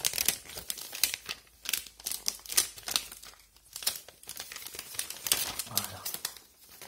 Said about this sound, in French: On déballe ça.